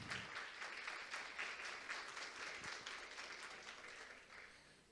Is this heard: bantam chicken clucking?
no